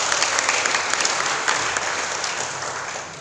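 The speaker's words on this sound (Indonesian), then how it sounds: "Tepuk tangan boleh." An audience at a seminar in Yogyakarta breaks into steady, dense applause, loud and close, holding for a few seconds before beginning to fade.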